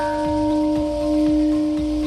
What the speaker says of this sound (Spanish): en Japón han hecho sonar la llamada y simbólica campana de la paz